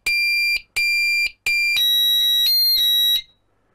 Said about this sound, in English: alarm is triggered, then we put code